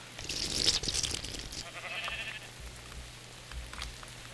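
A Minecraft sheep bleats loudly once, then softer wavering bleats follow over a low steady hum, with no talking.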